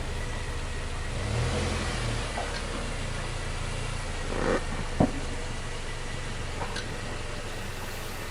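Subaru all-wheel-drive car with a CVT reversing slowly onto test rollers, its engine revving at a steady moderate level throughout, with a brief sharp knock partway through.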